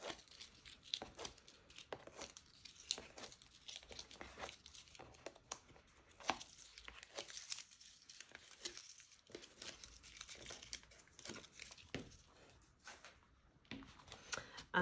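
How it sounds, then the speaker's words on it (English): Backing paper is peeled off foam pads for a cardmaking project: quiet, close crinkling and tearing, with short dry rips and rustles repeating unevenly throughout. "So just peel the backs off the foam pads here."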